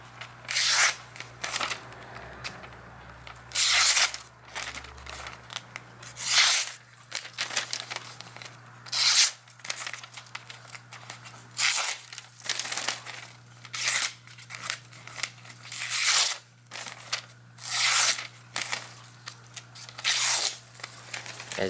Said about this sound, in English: As you can see, it cuts the paper like no problem.